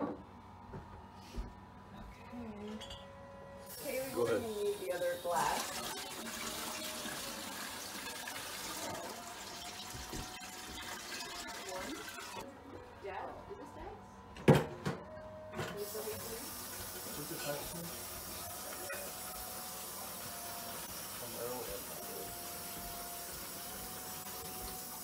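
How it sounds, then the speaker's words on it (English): Water trickles steadily through homemade, BPA-free Berkey-style gravity water filters, a faint continuous flow with a few brief clicks and knocks on top. "Hear that? The filters are doing their thing."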